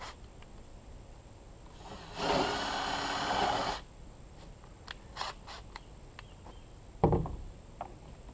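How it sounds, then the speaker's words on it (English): Power drill running in one short burst of about a second and a half during work on a dirtbike in a garage, followed by scattered clicks and clunks from tool handling and a single louder knock. "I have used a drill before though."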